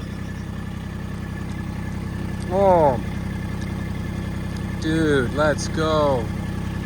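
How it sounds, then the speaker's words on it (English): A tractor engine runs at a steady, low idle throughout, a constant rumbling hum beneath a man's brief, excited speech. "I'm gonna do a quick trip with the tractor"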